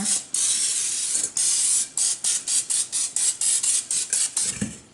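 Oil is sprayed from a can to grease a bowl for garlic wheat bread dough: a long hiss, then a string of short, rhythmic bursts, close and fairly loud with no talking.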